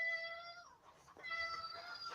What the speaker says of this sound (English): the cat's going crazy